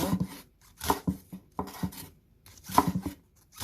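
A knife slices green onion stalks on a cutting board, a run of quick crisp cuts in short irregular clusters separated by brief pauses, close and clear with no talking.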